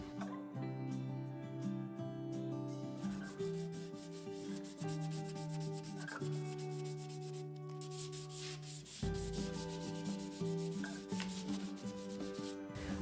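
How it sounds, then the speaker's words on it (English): Sandpaper rubs steadily across a painted vintage wooden dresser in a soft, continuous scratching, with music playing underneath. "And it'll get buttery smooth the more you sand it."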